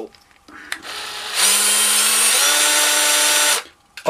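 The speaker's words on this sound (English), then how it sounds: "So I've got my drill." A power drill bores into a Game Boy DMG plastic shell, a whining motor that spins up with a short burst, then runs loud and steady for about two seconds, shifting pitch partway before stopping, with faint talk before and after.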